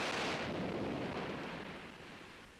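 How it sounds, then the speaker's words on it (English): An ammunition dump explodes in Addis Ababa, a loud broadband rumbling roar that fills the clip and slowly fades away, with no voices over it. "taking these pictures of an ammunition dump explosion"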